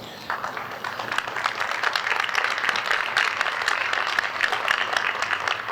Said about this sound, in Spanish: ¿ese aplauso es para él o para mí?